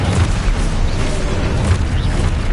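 The Expulso spell explodes in Hogwarts Legacy, a loud, sustained rumbling boom with a dense, noisy roar that fills the whole moment.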